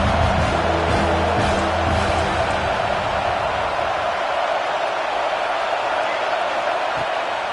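Stadium crowd noise from a Madden football video game, a dense and steady roar of a Buckeye home crowd on third down, loud throughout with a commentator-like voice faintly mixed under it early on.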